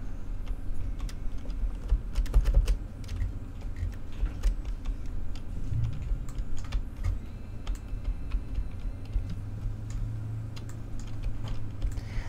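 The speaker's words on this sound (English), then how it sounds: "Over the tapping of my keyboard." Steady computer keyboard typing runs throughout, a dense, continuous patter of close key taps with no pauses or voices over it.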